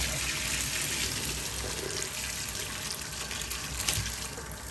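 Hot water with spinach pours out through a strainer as a steady, fairly loud rush and splash, continuous throughout with a few small surges.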